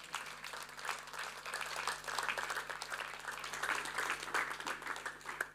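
A room of guests at an elders' banquet applauds to welcome a woman, dense continuous clapping holding steady throughout with a faint low hum underneath.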